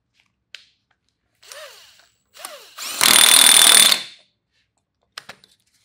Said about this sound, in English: So now we can tighten the nut.